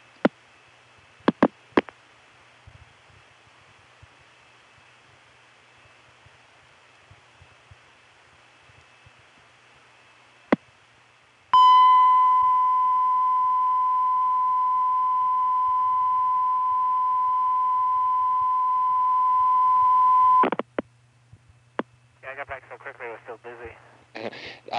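Telephone line tone on an early-1980s phone line with a homemade looparound: a steady, loud, sustained tone lasting about nine seconds after faint clicks, then cut off and followed by short bursts of clicking, voices heard faintly around it.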